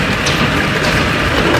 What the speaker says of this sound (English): Oh, it's hailing, but there's rainbow as well.